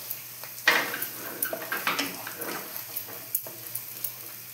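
Chopped onions with ginger, garlic and chili are stirred in a frying pan, a steady sizzle broken by a series of scraping, clinking stirs from a spoon against the pan.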